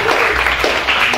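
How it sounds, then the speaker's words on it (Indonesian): A church congregation gives applause for its praise and worship team, a dense, continuous wash of clapping, fairly loud, over a brief stretch. "Saudara kasih tepuk tangan dulu buat tim PW kita hari ini."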